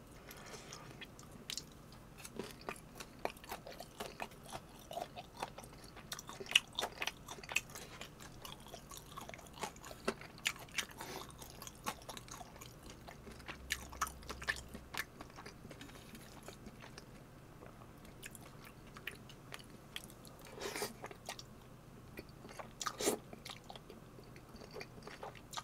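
Homemade flat pan-fried dumplings chewed at close range during a Korean home mukbang, with soft, wet biting and mastication clicks repeating steadily over a quiet background.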